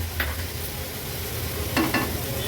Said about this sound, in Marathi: मिक्स करून झाल्या की आपण ह्याच्यामध्ये हा चिंचेचा कोळ ॲड करूया.